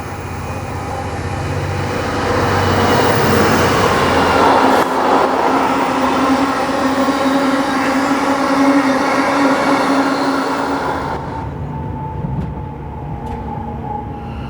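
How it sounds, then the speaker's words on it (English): A train rolls through Hamstead station on the Chase Line in Birmingham, a loud close rumble building over a few seconds, holding steady, then fading abruptly as it passes, with no voices. "there's a train coming through"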